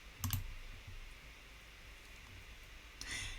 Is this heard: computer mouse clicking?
yes